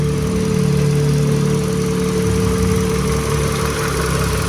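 A Toyota Caldina's 1AZ 2000cc four-cylinder engine runs at a steady idle, giving a close, even hum with a constant low drone and light vibration throughout.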